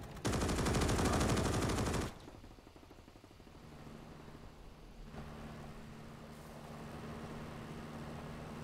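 A Maxim machine gun on the Eastern Front in a World War II strategy game fires one sustained, loud burst of about two seconds, then stops, leaving low engine rumble and faint battlefield ambience.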